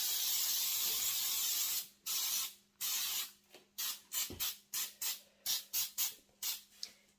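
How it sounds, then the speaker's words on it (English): Cooking spray hisses onto a bundt pan, first in a long continuous blast, then in a rapid series of short bursts, close and loud. "and I just spray it down."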